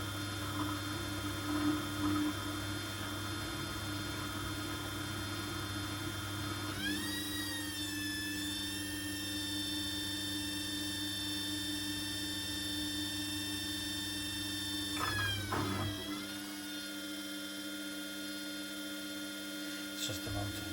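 A Hoover WDYNS654D washing machine's motor runs with a steady, loud hum, and its pitch rises partway through and holds as the drum speeds up. It slows briefly near the end and then continues more quietly, with no voices.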